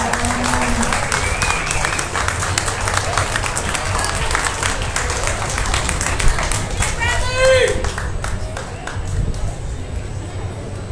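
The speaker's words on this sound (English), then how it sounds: "So let's give them one more nice big round of applause." Applause for senior showmanship contestants at a 2023 beef cattle show, a steady patter of clapping running about eleven seconds with voices talking over it.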